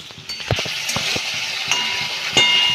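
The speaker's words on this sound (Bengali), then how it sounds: "এবার আমি ভেজে রাখা মাছটা দিয়ে দেব। এটাকে দিয়ে আমি একটু ভালো করে নেড়ে চেড়ে নেব।" Fried shankor fish is stirred into masala sizzling in a pan, a steady hiss punctuated by close clinks and scrapes of the spoon against the metal.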